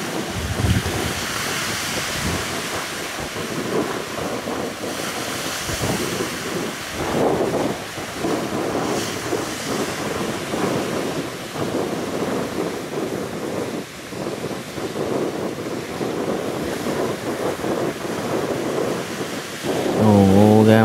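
Big sea waves striking a fishing boat heading out to sea, with heavy wind buffeting and repeated crashing surges of water, loud and close, and a voice briefly heard near the end.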